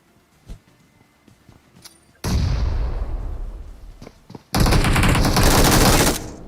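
Grenade blast and heavy gunfire in a battle royale mobile shooter with a volcano-effect grenade: faint scattered shots, then a loud booming explosion that decays, followed by a dense, sustained burst of rapid fire.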